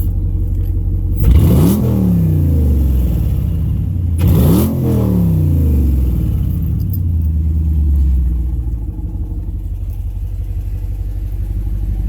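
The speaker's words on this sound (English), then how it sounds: "we'll turn on the beast mode and you can hear the car a little bit more" A 2015 Dodge Charger Pursuit in its loud exhaust mode revs twice, each sharp rise climbing and falling back over a steady, close idle rumble, with no talk.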